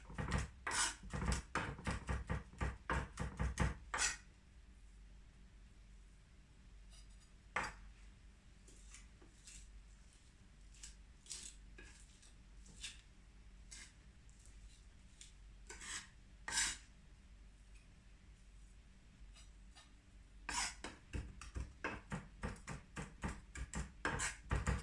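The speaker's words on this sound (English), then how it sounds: "put some salt in your garlic, and then just sort of mash it on the board" Knife chopping and mashing salted garlic on a cutting board while making pizza dough toppings: quick rapid taps of the blade open the stretch, then a steady scraping rub of mashing, with a few isolated knocks, and brisk chopping returns at the end.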